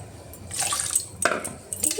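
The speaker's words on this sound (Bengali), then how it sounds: "এরকম করে জল দেবেন আর এতে করে এরকম করে একটু নেড়ে নেবেন" Water is added to milk cream in a pot and stirred to make homemade ghee, with a few soft clinks of a spoon against the vessel and liquid sloshing, heard close and alone.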